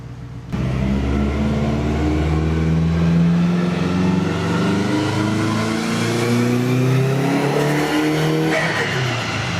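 Subaru WRX bought for about $1000, driving with a loud, steady engine drone and a thin high squeal running above the engine and road noise.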